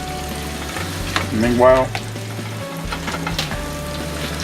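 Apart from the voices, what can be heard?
turkey sausage frying in a paella pan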